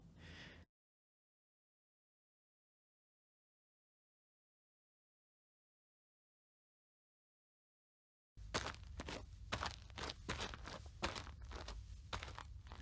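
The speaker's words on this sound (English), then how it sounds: "This clip of footsteps ought to work." Footsteps on sand from the Fairlight Sound Library: a brief burst, a long silence, then a run of regular crunching steps, close and distinct, with no voices.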